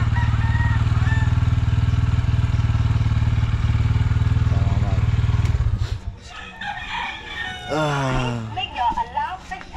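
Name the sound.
motorcycle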